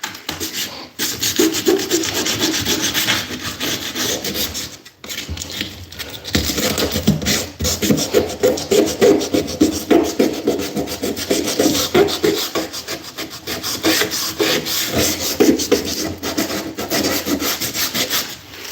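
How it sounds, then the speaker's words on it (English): Coarse sandpaper rubbed by hand over a wooden closet surface, a steady close scratchy rasping that continues in repeated strokes with a brief pause near the start. "Here goes some other sandpaper I have. It's a little bit more coarser."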